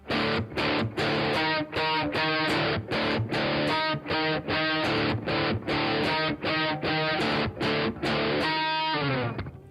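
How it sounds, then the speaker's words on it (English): Heavily distorted electric guitar chugs out a loud riff in choppy, rhythmic bursts with brief gaps between chords, ending on a ringing chord. "So kick my distortion on, show you how it goes."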